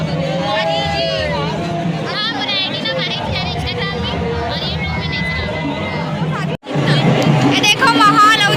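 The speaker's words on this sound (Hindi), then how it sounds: "देखो माहौल और ज़्यादा भीड़ हो गए है" Dense crowd hubbub at a night festival at the Rajiv Lochan temple, with many overlapping voices and chatter close by, broken by a brief cut before the babble resumes.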